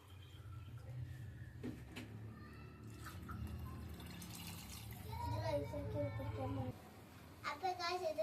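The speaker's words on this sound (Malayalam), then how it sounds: "നമുക്ക് ഇത്തിരി വെള്ളം ഒഴിക്കും" Water is poured into a pan of sautéed masala while Maggi noodles are being cooked at home, a brief splashing and trickling that sits under ongoing talk.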